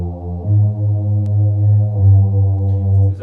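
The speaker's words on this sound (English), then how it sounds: "I added a low synth." A low synth from an instrumental beat, a fruity preset treated with distortion and EQ that cuts the top end, sustaining a deep droning tone with a couple of note changes, close and alone.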